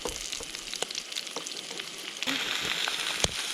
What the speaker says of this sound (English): Kara's has brought some baby potatoes which she boiled, and now she's frying up a bit